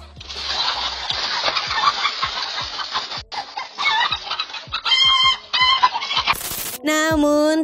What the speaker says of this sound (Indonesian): Hal itu pun membuat kawanan ayam berlari berhamburan.